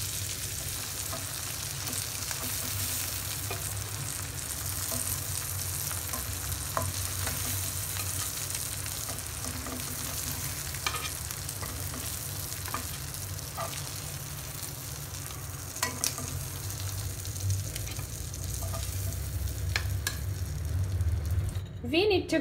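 Fish pieces fry in a pan for fish curry, a loud dense sizzle and crackle holding steady the whole time with scattered pops and spatter, close by.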